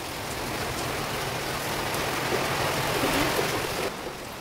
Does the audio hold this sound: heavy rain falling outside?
yes